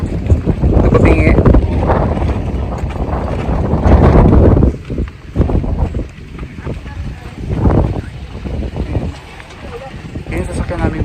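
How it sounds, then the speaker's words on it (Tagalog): A bangka motorboat engine churns loudly on open water, buffeted by gusts of wind noise, while people talk over it with several pauses. "Yan yung sasakyan namin bangka."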